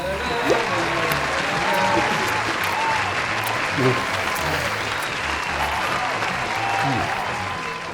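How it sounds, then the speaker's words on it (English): Cheering crowd with dense applause added over a talk broadcast, a steady loud wash of clapping and voices filling the whole stretch. "Can you edit in a cheering crowd?"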